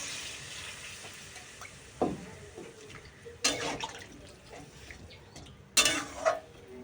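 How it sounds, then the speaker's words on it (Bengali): Water poured into a pot of sautéed vegetable curry gives a low simmering sizzle, broken by a few short splashy bursts and a clatter of the pot, fairly quiet overall. "এবার এই যে এর মধ্যে জল দিয়ে দিলাম"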